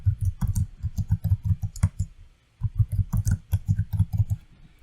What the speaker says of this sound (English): And you have to click finish.